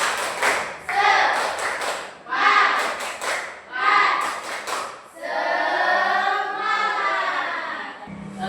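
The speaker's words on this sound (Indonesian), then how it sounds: "Tepuk semangat." A classroom of students performs a rhythmic spirit clap, with bursts of claps and chanting voices in patterned groups, followed by a longer stretch of group chanting.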